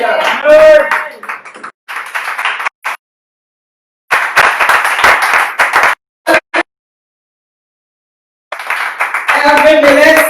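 A church congregation bursts into applause and acclamation for the Lord during a festive worship service, with loud bursts of clapping between stretches of raised voices, separated by short silent gaps.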